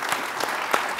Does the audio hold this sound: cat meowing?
no